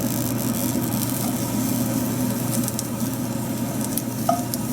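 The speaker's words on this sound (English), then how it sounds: "We don't need to do too much with the fennel, just to bring out its flavor and to char it for the salad" Fennel wedges, cut with roots intact, char in a hot pan with a continuous, fairly loud sizzle and crackle that holds steady throughout.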